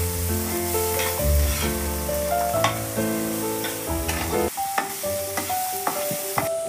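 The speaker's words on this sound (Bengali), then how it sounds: "দিয়ে কুমড়োগুলো একদম মিডিয়াম থেকে লো ফ্লেমে নেড়ে চেড়ে একটু ভাজা ভাজা করে নিতে হবে" Salted, turmeric-coated pumpkin pieces fry in ghee over a medium-to-low flame while being stirred, giving a steady close sizzle with scraping strokes, all under prominent instrumental music.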